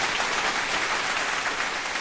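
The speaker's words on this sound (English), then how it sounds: "Round of applause for the Lakers for starting 0-3." Brief burst of applause from a studio audience on a sports talk show, dense, steady clapping held at an even level throughout, fairly near and with no talk over it.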